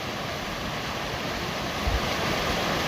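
The Animas River along the Colorado Trail rushes in a steady, broad roar of flowing water mixed with wind noise, loud and continuous with no talk.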